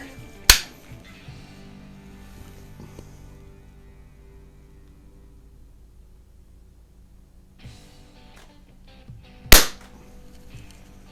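Two sharp, loud pneumatic cracks from a Daisy 717 .177 single-stroke pellet pistol firing Meisterkugeln pellets, one near the start and one near the end, separated by quiet handling noise.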